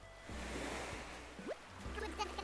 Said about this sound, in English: The waves! The waves!